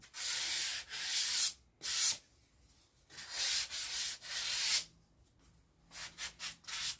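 Sandpaper is rubbed by hand over the surface of an old, large wooden coffee table, giving soft scratchy strokes in uneven bursts with brief pauses between them, fairly quiet and close, no talking.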